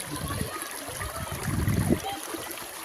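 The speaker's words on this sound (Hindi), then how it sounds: "ये पत्थर से पानी जा रहा है।" Water from a waterfall spills over rocks in a steady, close rushing wash with soft splashing, while low voices murmur underneath.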